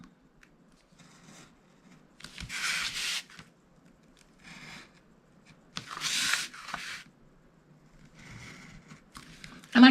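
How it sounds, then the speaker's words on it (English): Paper squares for a gift box trimmed with a finger blade, several short scraping cuts in separate bursts with quiet pauses between, close and fairly soft. "Now I'm going to take my finger blade and just trim each one out."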